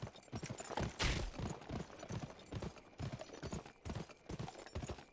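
Horse hooves clip-clop in the Western shooter game GUN, a brisk rhythmic trotting of repeated hoof beats that is close and fairly loud, with a brief whooshing burst early on.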